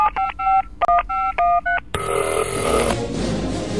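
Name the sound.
telephone dialing tones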